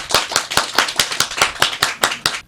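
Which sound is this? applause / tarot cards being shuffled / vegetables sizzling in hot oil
applause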